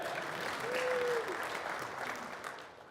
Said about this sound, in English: let's give him a round of applause, all right?